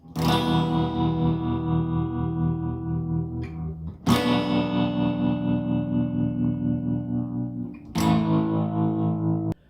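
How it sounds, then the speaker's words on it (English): A heavily reverberant, distorted sustained chord effect of the doom-like kind swells and decays three times, each loud attack cutting in abruptly and ringing out with dense washing echo, no voices. "So it's that kind of reverb effect that I was talking about"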